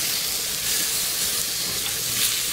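Mushrooms sizzling in a pan for pork chops, a continuous loud hiss of frying with faint stirring movement, close up and steady throughout, no voices.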